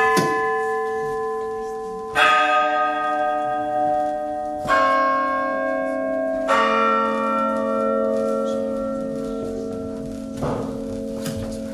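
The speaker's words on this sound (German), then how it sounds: "Dabei wurden die Glocken angeschlagen." New church bells are struck one at a time during a consecration service, four or five strikes spaced a couple of seconds apart, each ringing out and humming on between hits.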